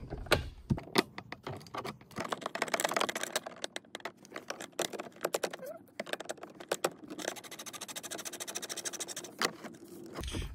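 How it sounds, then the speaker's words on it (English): A socket wrench loosens the bolts holding an airbag control module in a Nissan Rogue, giving bursts of quick, close ratcheting clicks and scraping taps that start and stop unevenly. "I want to be able to get right into here and remove these three bolts that hold down the module"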